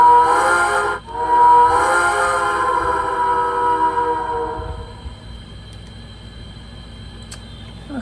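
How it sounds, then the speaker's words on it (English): A sustained, multi-toned steam whistle from a model Bachmann Shay locomotive blows for several seconds, briefly dipping before resuming with a trill, then fades out into quiet background hum. "And then you have the number 2 whistle, which does give that extra trill at the end of it"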